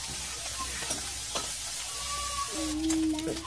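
Mussel curry with turmeric is stirred and sizzling in a pan, a steady close frying hiss broken by scraping strokes of a spoon, with one louder scrape near the end.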